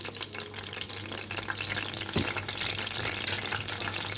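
Potato pillows dusted with rice flour frying in oil over slow-medium heat, a steady close bubbling crackle with faint scraping stirs, no voices.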